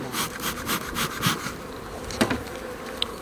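Bees buzz around a beekeeper's smoker while it puffs smoke, a close, insistent droning hum with louder passes and a few sharp clicks, with no talk over it.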